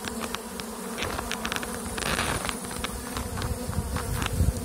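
Honeybees swarm and buzz at an opened hive during a June queen search, a dense, steady drone close by with sharper individual wingbeats flickering through, no voices.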